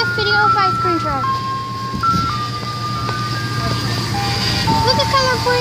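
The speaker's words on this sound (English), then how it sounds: "The ice cream truck's here." An ice cream truck plays its tinkling melodic jingle over a steady engine hum, with people and someone talking nearby as it arrives.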